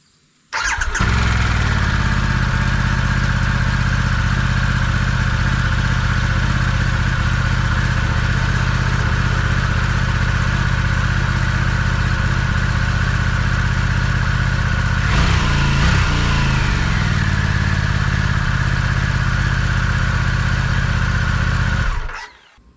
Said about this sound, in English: Okay, now for the stealth moto muffler. Start up.